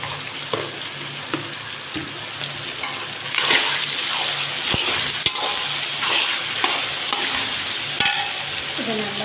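Tomatoes sautéing in a pan with a pinch of salt: a loud, steady sizzle carries throughout, with repeated scraping and clattering stirring strokes scattered over it.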